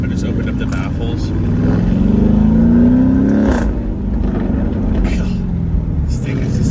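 Lamborghini Urus with its exhaust baffles open in Corsa mode, driving through Newport Beach city streets, gives a deep, loud rumble that swells as it climbs, then drops back, while people talk over it.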